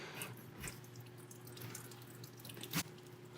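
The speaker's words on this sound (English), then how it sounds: "See all that, the water still dripping down, and it just stops right here" Water dripping and trickling from a burst frozen pipe on an old hose line in a house, with a steady low hum underneath and one sharper splash near the end.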